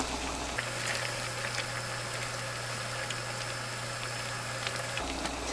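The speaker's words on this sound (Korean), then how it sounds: "김치찌개가 이제 이렇게 끓고 있으면은요" Kimchi stew with pork and anchovy broth simmers in a pot, a soft steady bubbling hiss with faint pops and a low hum, quiet and alone without talk.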